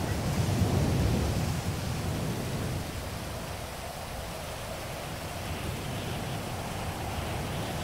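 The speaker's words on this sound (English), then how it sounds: "Get out of the rain." Rain and thunder in the video game Grand Theft Auto V: a low rumble swells at the start, then settles into a steady, even rain wash that continues without a break, with no talk.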